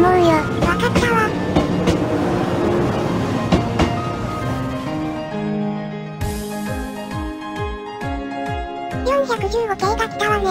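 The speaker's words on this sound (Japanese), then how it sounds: "415系が来たわね。" A 415 series electric train rolls in with rhythmic wheel clacks and rumbling carriages, slowing as it arrives, with a hum and brief chatter nearby.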